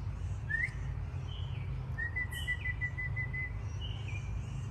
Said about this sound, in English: These birds are cardinals.